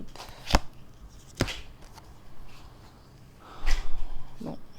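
Playing cards being cut and shuffled for a reading, giving two sharp snaps early on and a softer rustling flurry near the end, close and fairly quiet with no talk.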